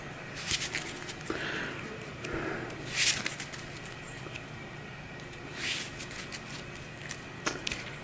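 Playing cards from the hunch deck of the Return to the Midnight Masks card game are shuffled in a few short, soft riffling bursts, close and faint, separated by quiet room noise.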